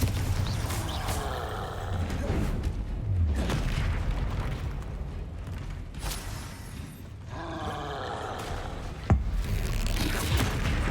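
Confringo blasting spell in Hogwarts Legacy, heard as loud, booming game explosions over a dense, continuous bed of combat noise and music, with a sharp thud near the end.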